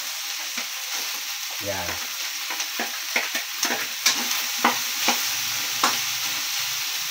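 Tomatoes dropped into hot oil in a pan for pakbet, a close steady sizzle with scattered clicks and scrapes of stirring, and a brief spoken word near the start.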